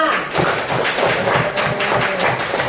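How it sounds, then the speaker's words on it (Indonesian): A group gives a fuller round of hand clapping, a dense, continuous, loud patter of close claps with soft thumps, sustained from start to finish. "Tepuk tangannya kurang meriah. Beri tepuk tangan untuk kita semuanya."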